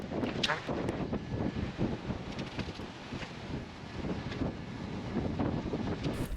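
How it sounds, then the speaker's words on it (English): Strong wind at sea on a sailboat crossing the Pacific, a continuous loud buffeting rush against the microphone with gusting rumble and a few sharp clicks, no talk. "The wind was increasing"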